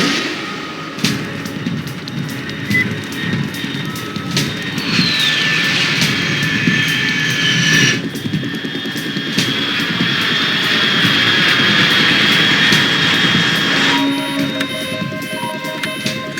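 A fast unidentified aircraft at high altitude roars overhead in the Metal Gear Solid 3 video game, a loud sustained jet-engine rumble with rising and falling whine tones, alone with no talk.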